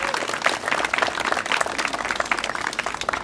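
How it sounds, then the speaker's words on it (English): An outdoor crowd at a zoo reopening ceremony applauds a state representative with steady, dense clapping, moderately loud and fairly close, with no voice over it. "Let's give her a round of applause."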